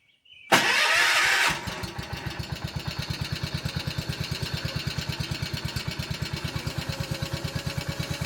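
A 1976 tractor engine cold starting, a brief loud cranking burst that catches and settles into a steady, evenly pulsing low idle, close by and with no voices.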